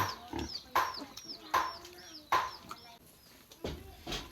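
Chickens being fed vegetable scraps outdoors, clucking and short squawks repeating at close range, with several louder bursts and other farm noise in the background.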